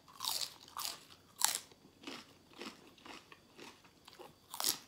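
Crisp, loud crunching of fresh raw vegetables eaten alongside Thai khanom chin noodles with canned fish curry, several distinct bites and chews close to the mic at an irregular pace, with no talking.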